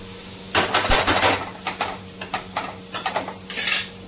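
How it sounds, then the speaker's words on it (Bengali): Potatoes being cut on a boti blade in a home kitchen while preparing aloo chop, giving a string of close, crisp chopping clicks and scrapes in uneven bursts with no talking. "বটিটা দিয়ে ভালো করে আমি কেটে দেবো, আলুগুলো ভালো করে কেটে নেবো।"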